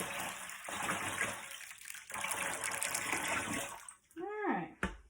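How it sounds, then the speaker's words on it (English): Lye solution pours into hot oils for high-temperature hot process soap, a steady watery gush and splash that runs for several seconds, then breaks off near the end as a voice speaks briefly. "We're going to go ahead and pour our lye solution in."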